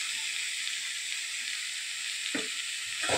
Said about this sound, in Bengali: আমি আর একটু তেল দিয়ে দিই